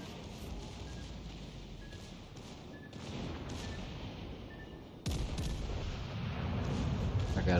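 Naval artillery firing HE shells in a ranked warship battle game: rumbling booms and low blasts over a dense battle din, with a sharp louder salvo near the end.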